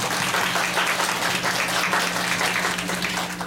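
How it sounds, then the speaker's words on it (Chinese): An audience at a community development association gathering in Wufeng, Taichung, claps together in a steady, dense burst of applause that holds at full strength throughout. "来大家拍手。"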